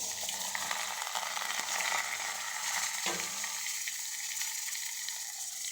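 Garlic paste, onion and green chilli sizzle steadily in hot oil after cumin, a continuous loud frying hiss with faint stirring scrapes and no voices.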